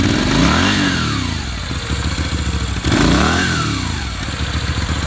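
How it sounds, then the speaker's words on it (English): A brand-new Moto Guzzi V7 750 scrambler with a fairly quiet aftermarket exhaust, close by, revving twice in rising and falling sweeps between a lumpy, pulsing idle. "So as you can see, or you can actually hear, this is not a very loud exhaust system."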